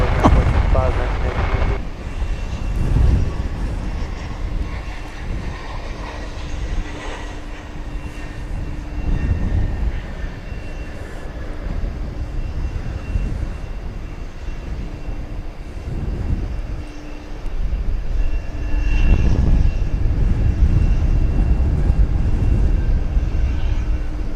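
Jet aircraft engines roar at DFW Airport, a broad rushing drone that swells and fades as planes pass, with someone talking over it in places.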